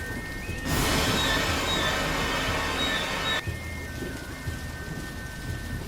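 Heavy rain pours down loudly for a few seconds, a dense steady hiss, then eases to a softer background patter.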